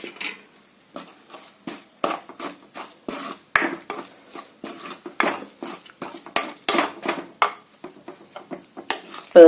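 Prawn masala paste being mixed in a bowl, a quick irregular run of close spoon-on-bowl clinks and wet scraping strokes, loud and alone.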